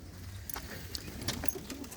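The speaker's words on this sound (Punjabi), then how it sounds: "ਕਬੂਤਰ ਵੀ ਬਹੁਤ ਬਹੁਤ ਸੋਹਣੇ ਨੇ" Soft cooing of pigeons mixed with fluttering and shuffling, a busy roost close by with no talking.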